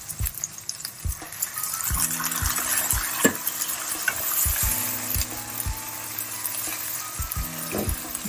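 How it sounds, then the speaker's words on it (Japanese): White wine poured into a hot pan holding pasta sauce with homemade pancetta, giving a steady close sizzle and bubbling, punctuated by regular stirring clanks of a utensil against the pan. "白ワイン入れちゃいます。"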